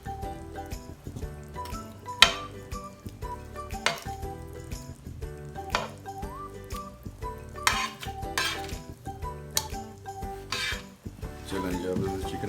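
Chicken being added and stirred into gravy in a pan, with repeated clinks and scrapes of a spoon against the metal pan, a few sharp knocks, and faint sizzling underneath.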